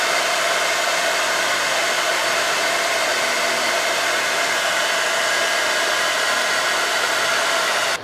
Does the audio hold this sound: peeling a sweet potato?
no